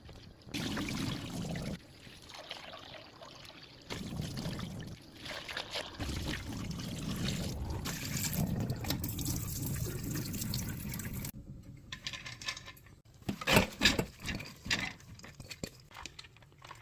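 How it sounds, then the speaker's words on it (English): Water runs and splashes steadily while soaked beans are swished and rinsed in it, with brief pauses and a clattering burst near the end. "give the soaked beans a good rinse until the water is clear of any husk"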